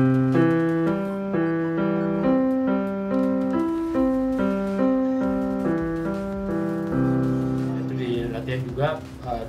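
Piano played with both hands: a low bass line under repeated chords and a melody, steady and moderately loud, with no talking.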